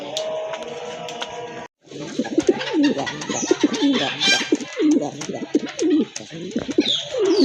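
Pigeons coo repeatedly in low, rolling calls, close and fairly loud, overlapping one another with some soft background noise.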